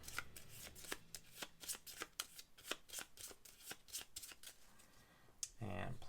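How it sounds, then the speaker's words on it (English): A deck of board game cards from Lost Ruins of Arnak is shuffled repeatedly in a quick, crisp riffling rhythm close to the mic, with no speech. "I can simply shuffle these up."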